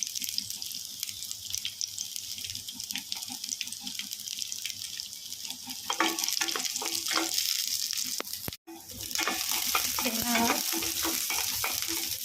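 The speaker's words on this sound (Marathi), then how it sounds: "थोडंसं फ्राय करून घेणार आहोत अद्रक लसणाला." Ginger and garlic frying in oil in a pan, a steady close sizzle with irregular stirring scrapes that grow louder partway through, briefly cut off before resuming.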